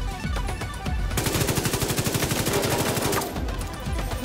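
Rapid automatic gunfire from a video game battle in Washington, a steady stream of loud shots bursting through the middle of the stretch, with lighter gunfire and game noise before and after.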